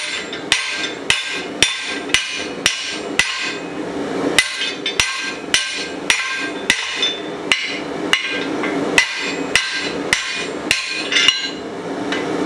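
A blacksmith's fuller strikes hot steel in a fast, even run of sharp ringing blows, close and loud, about twenty hits with no talking.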